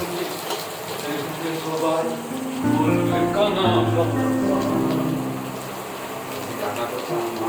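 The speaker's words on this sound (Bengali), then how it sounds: "তেলের মধ্যে পেঁয়াজ দেবো, তারপরে কাঁচা লঙ্কা দেবো, তারপরে আদা রসুনের পেস্টটাকে দিয়ে ভালোভাবে এটাকে ভেজে নেব" Onions, green chilli and ginger-garlic paste fry in hot oil for an egg curry, giving a steady sizzle that swells partway through, with a voice talking over it.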